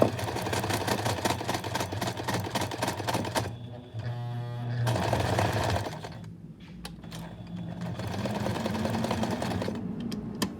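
A sewing machine stitches in an invisible zipper, whirring steadily at close range with a fast mechanical rattle, briefly pausing and changing pace before running on through the whole stretch.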